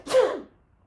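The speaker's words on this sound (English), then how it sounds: "Sneezes." A single close sneeze bursts out sharply, then quickly fades to silence.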